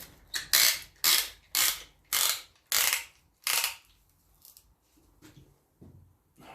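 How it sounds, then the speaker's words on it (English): A piston ring compressor for a Land Rover Series engine ratchets and clicks as it is tightened around a new piston, giving six loud, evenly spaced mechanical bursts followed by a few faint clicks and handling noises. "Get your piston ring compressor set on there."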